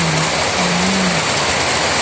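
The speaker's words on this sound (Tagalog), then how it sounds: "umuulan, grabe. Lakas ng ulan." Heavy rain pours in a steady, dense roar that stays loud and unbroken throughout.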